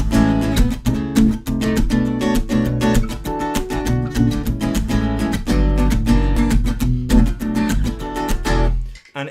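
Solo acoustic guitar with an octave bass pedal effect, rapid percussive strummed and muted chords in a steady driving rhythm with a thick low bass layer beneath, loud and close, ending abruptly.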